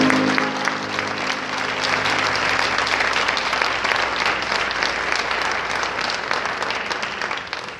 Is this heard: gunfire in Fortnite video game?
no